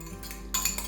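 Chili powder and turmeric being stirred in a pan, heard as a short run of quiet scraping followed by a couple of brighter metallic clinks of a spoon against metal, close up.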